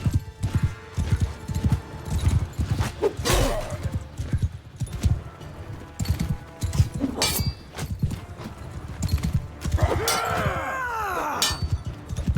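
Galloping horse hooves in Mount & Blade 2: Bannerlord, a steady rapid clip-clop running throughout amid combat clashes and a brief whinny, loud and close.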